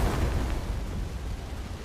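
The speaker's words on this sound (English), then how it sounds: "Why are there so many explosions?" Explosions rumble in the video game Stellar Blade, a dense, continuous low roar of blasts and booms filling the whole stretch, loud and unbroken.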